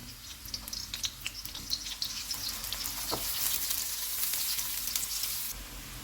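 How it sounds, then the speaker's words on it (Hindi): Onions sizzle and crackle steadily in hot oil in a karahi, the frying growing denser and louder, with faint stirring and no voices. "इसमें प्याज डालेंगे और इनको गोल्डन फ्राई करेंगे।"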